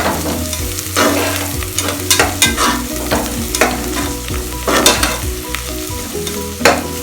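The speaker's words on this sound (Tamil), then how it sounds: "நல்லா கொஞ்சம் வதக்கிக்கோங்க, கலர் சேஞ்ச் ஆகாத மாதிரி நல்ல வெங்காயம் நல்லா சேர்ந்து வர போல் நம்ம வதக்கிக்கணும்" Onions, green chilies and coriander sauté in a pan for veg kurma, with a continuous loud sizzle broken by frequent scraping stirs of a spatula, up close and without voices.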